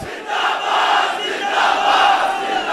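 Large crowd at a religious rally chanting the Zindabad slogan in unison, a loud, dense wall of massed voices sustained throughout with slight swells.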